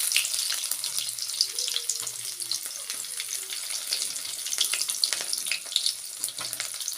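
Chopped onion frying in hot oil with dried chillies, bay leaf and panch phoron, a close, continuous crackling sizzle with scattered pops and light stirring scrapes throughout.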